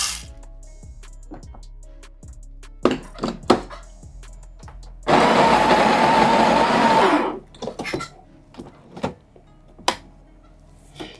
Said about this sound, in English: I'm having my coffee grinder on grind size 5.